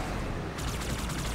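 Rapid gunfire from a weapon in Halo 2 forms a dense, loud burst of quick repeated shots, continuous for over a second with no talk.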